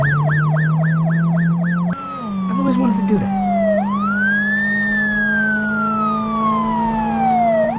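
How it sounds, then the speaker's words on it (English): A stolen police car's siren wails loudly and close, first in a fast yelp then a slow rising and falling sweep, over a low engine drone while someone speaks briefly. "They drive away using the sirens to clear traffic."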